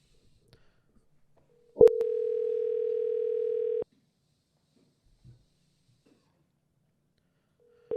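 Ringback tone sounds while an outgoing phone call connects: one steady electronic tone lasts about two seconds, silence follows, and a second tone starts at the very end. No one speaks.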